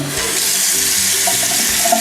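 Water streams steadily from a bidet faucet in a Barcelona hotel bathroom, a continuous close hiss and splash with no voices.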